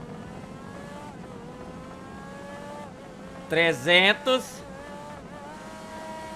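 A Devel Sixteen hypercar's engine screams at very high speed in GTA, a sustained high-pitched whine with rising harmonics. A brief loud burst of shouting cuts through midway, and one word is spoken.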